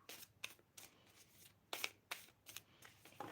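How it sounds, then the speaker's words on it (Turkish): Tarot cards are shuffled and drawn from a deck in a series of brisk, crisp riffling bursts and soft slaps, fairly quiet and close, with no one talking. "Dört kart çekelim bakalım."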